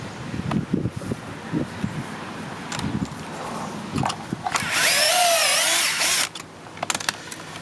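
A power drill bores pocket holes in construction lumber, with a loud sustained whine for about a second and a half after scattered knocks and handling of the wood.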